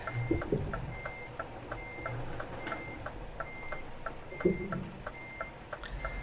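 Steady rhythmic reversing beeps repeat from a truck backing up in Euro Truck Simulator 2, sounding over a low engine rumble with no talk.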